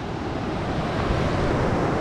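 Ocean surf rolling onto the beach at Hammamet, Tunisia, a steady broadband wash of breaking waves with some wind rumble, continuous and fairly loud with no voices.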